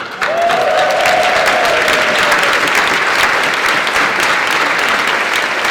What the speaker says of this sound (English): So let us give a round of applause for people who came for the first time.